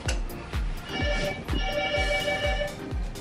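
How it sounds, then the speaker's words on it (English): A phone rings during a vlog from Taiwan, its tonal ring over a strong, steady thumping beat, loud and close with no talk. "I'm getting my phone call"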